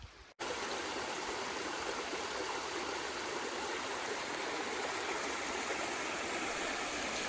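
Steady, loud rush of a stream flowing along its banks in a valley of Devil's Eyebrow Natural Area, heard close and continuous with no voices.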